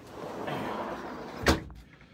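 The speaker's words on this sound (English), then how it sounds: "I can't hold the door open this time of year" A door swings shut with a single solid thud in a room with a steady low background murmur, followed by a brief fading rattle.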